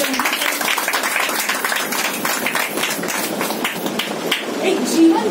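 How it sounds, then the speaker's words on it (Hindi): An audience at a Women's Day celebration in Kandivali claps, a dense, steady wash of applause that holds at an even level throughout the few seconds. "तालियां खुद के लिए।"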